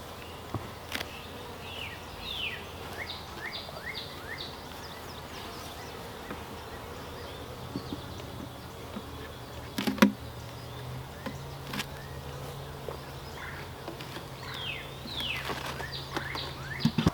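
A steady, low buzzing of many honeybees at a new hive hums throughout, with occasional louder individual bees passing close and faint bird chirps in the background.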